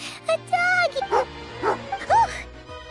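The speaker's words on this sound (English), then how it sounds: "Oh, a dog!" Dog barks and yips from a character's hunting dog in the video game Genshin Impact, a few short bursts heard amid game music and voices of people talking.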